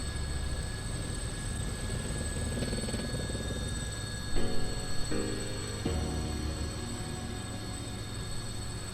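A helicopter in flight in the video game Persona 4 Arena Ultimax makes a steady, dense engine drone with a constant whine, holding loud and even throughout, with a few brief tonal shifts partway through.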